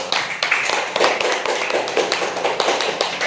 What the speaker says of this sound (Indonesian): Tepuk tangan dulu buat Amel